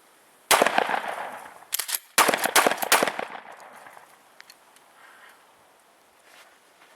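A Remington 870 pump shotgun fires several loud, sharp blasts close by, one booming report followed by a tight cluster of further shots, with only quiet background between and after them.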